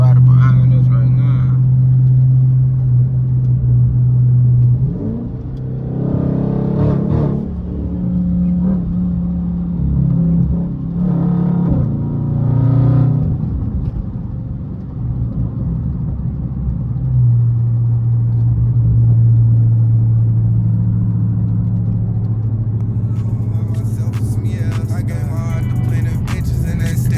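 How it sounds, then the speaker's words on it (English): A Dodge Hellcat widebody rumbles behind the car as a steady, deep engine drone that rises and falls slightly, with voices talking over it throughout. "We in them bitches got the Hellcat wide body behind us right now."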